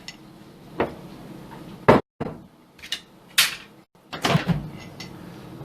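A kitchen microwave oven door is opened and shut several times. Each one is a sharp, close clunk or click, spaced irregularly, with quieter handling noises between them and no voices.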